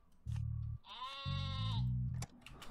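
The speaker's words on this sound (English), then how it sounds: "we are just playing so many sheep here" Sheep bleating in the video game Terracards: a single clear, wavering bleat sounds between low thumping game effects, fairly close with no talking.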